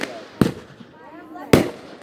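Two loud, sharp 500 gram consumer firework blasts at a Fourth of July backyard show, each a sudden boom with a crackling tail, spaced about a second apart under faint background chatter.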